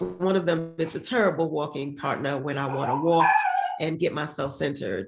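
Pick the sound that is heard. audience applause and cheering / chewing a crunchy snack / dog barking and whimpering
dog barking and whimpering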